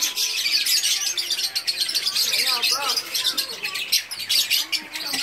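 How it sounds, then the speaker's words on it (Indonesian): Pet birds chirp and tweet noisily and continuously at close range, a dense stream of bright overlapping calls in a home during a morning of building work, with faint voices in the background. "Nih, burungnya berisik banget."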